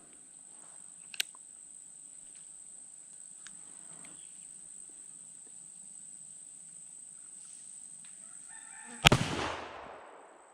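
A Colt Dragoon percussion revolver fires a 240 grain bullet in one loud, sharp outdoor blast with a trailing echo, after a long stretch of steady crickets and a faint click.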